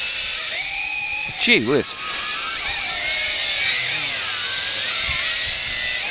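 A Tarantula X6 quadcopter drone whines at full throttle with a high, steady multi-tone motor buzz whose pitch rises and bends as it pulls forward, loud and continuous throughout, with a brief spoken exclamation over it.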